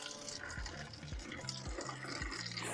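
Hot water from a kettle splashes and gurgles quietly into a home-brewing mash tun in short, uneven pulses, faint and close with no talk.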